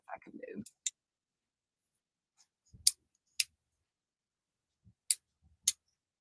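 Scissors snip tatting thread in a few sharp, isolated clicks spaced seconds apart in a quiet room, following a brief murmur at the start.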